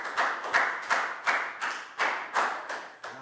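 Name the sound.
applause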